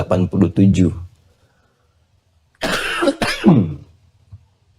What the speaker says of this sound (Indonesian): Saya sudah minta izin di awal ya untuk diselingi dengan batuk.